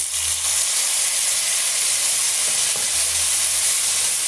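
Chopped onion and tomato sauté in an oiled pan for a spicy okra tamarind curry, giving a steady close sizzle throughout with a couple of faint scraping stirs.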